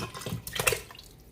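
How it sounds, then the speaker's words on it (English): Canned diced tomatoes with their juices pour into an Instant Pot for chicken spaghetti, a brief wet splash and glug peaking mid-pour then trailing off, close and fairly quiet. "We're going to add in our canned tomatoes."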